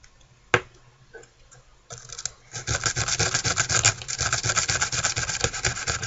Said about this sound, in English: I'm sanding in the direction of the grind marks.